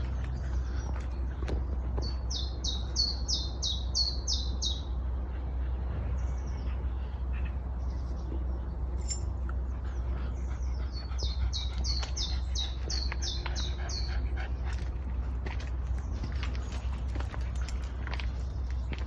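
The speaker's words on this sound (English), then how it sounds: "the birds, the sound of bird song is beautiful" Two bursts of rapid, high-pitched birdsong trills ring out some distance away over a low steady hum, with scattered faint chirps and rustles between.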